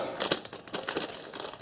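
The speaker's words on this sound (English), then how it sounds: "I'm going to actually take it out here because I still haven't taken it out of the plastic bag" A plastic bag crinkles in short irregular bursts as a small toy tractor is pulled out of it, close and fairly quiet, with no talking.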